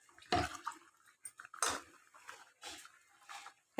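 Water splashes and clinks in a metal pot while ground green chili and radhuni paste are rinsed out, a few irregular sloshing bursts with dish clatter and short quiet gaps, close and alone.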